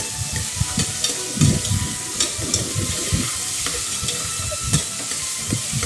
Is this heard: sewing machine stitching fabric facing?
no